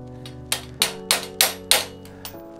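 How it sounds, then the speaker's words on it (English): Metal hammer blows driving a tight coolant hose off a VW TDI turbodiesel engine during a teardown, about seven sharp ringing strikes in an uneven rhythm, close and loud over a faint steady hum. "Had to hammer it out."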